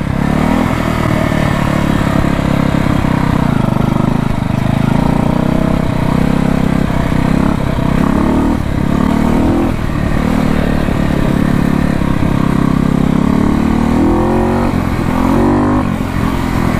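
A 1968 Harley Davidson motorcycle engine runs loud and close, with a rough, lumpy idle and clattering throb. The throttle briefly surges and revs, then settles, with no talk over it.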